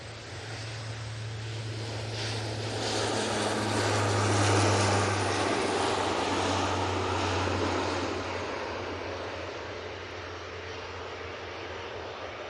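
An airliner departs Manchester Airport, its engine roar building from a distance to a loud peak midway with a low droning hum, then fading again as it climbs away, no talk.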